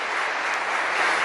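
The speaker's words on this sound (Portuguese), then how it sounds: "Vamos aplaudir Jesus" A church congregation applauds steadily for Jesus, a dense wash of clapping hands filling the room at an even, sustained level with no voices over it.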